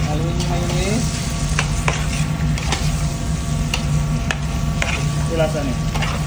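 Spicy chicken with corn and mayonnaise is stirred in a hot pan, giving a loud, steady sizzle broken by repeated scraping spatula strokes at an irregular pace, close to the listener with no talk.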